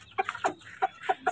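A chicken clucks in short bursts, about five sharp clucks spaced irregularly over a second and a half, fairly close and alone, with faint background noise.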